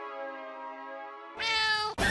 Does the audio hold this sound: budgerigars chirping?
no